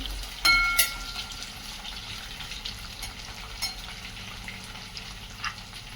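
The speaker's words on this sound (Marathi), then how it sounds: "कट केलेली मिरची टाकूयात" Chopped chillies frying in a pan for veg pulao, stirred with a utensil: a low steady sizzle runs throughout, with a few sharp clinks near the start and occasional scraping strokes.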